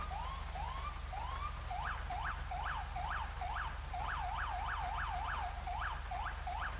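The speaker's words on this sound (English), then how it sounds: "if I'm going to pull someone over, I'll blip my horn like this" A GTA 5 police cruiser signals a pull-over with its blipping horn: a few slow swooping whoops give way to a rapid string of about a dozen sharp rising-and-falling chirps, loud and close over a low engine drone.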